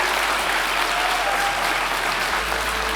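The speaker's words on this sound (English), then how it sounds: "can I get one last very big round of applause for Kelly and Thank Andrea." A big, dense round of applause from the crowd closing a voice actor panel at PonyCon Holland 2024, loud and continuous clapping that fills the room without a break.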